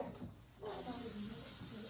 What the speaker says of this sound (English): spray your muffin cups for easy release